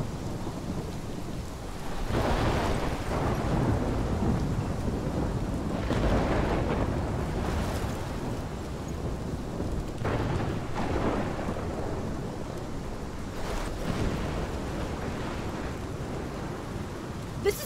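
A thunderstorm in the video game Life Is Strange Remastered: steady heavy rain with low rolling thunder swelling several times, a near, dense roar throughout with no voices.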